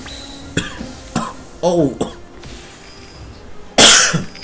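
A person coughs hard several times in close succession, the bursts loud and near and ending in one especially forceful cough, with a brief vocal sound between them.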